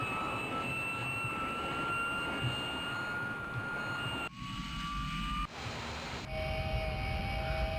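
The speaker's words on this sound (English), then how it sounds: "So let's wait till the engines have started." The jet engines of a McDonnell F2H-2 Banshee spool up on startup in Flight Simulator 2020, a steady roar with rising whine tones that steps abruptly in pitch and character a few times, with no talk.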